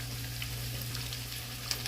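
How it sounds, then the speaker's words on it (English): Chicken wings sizzle steadily in hot oil in a frying pan, a constant close crackle with a low hum underneath and no voices. "I'm just using my frying pan, and we're gonna let this cook"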